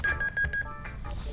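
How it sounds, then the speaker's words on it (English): A telephone rings in a radio sports talk studio, repeating electronic tones that come in a steady pattern at moderate loudness with no speech. "Is that the phone ringing?"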